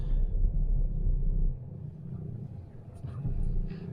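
A used part-exchange car out on a test drive, with a steady low engine rumble and road noise from inside the cabin, easing briefly midway and then building again.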